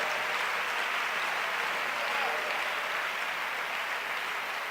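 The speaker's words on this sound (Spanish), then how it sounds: "Aplauso a nuestro Dios." A congregation at a church convention applauds steadily, broad and dense, at a moderate level throughout with no clear voices over it.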